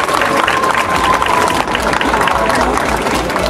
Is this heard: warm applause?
yes